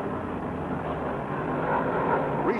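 Vintage 1971 stock cars roar down the straight at the restart of the World 600 at Charlotte, a steady dense engine drone holding loud and constant, with a brief rising whine near the end.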